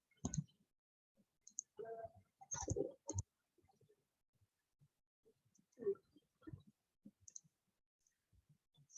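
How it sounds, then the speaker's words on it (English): A computer mouse clicks faintly in a quiet room, a few crisp clicks in short clusters, some doubled, with long silent gaps between them. "I'm going to right click my new sheet and duplicate"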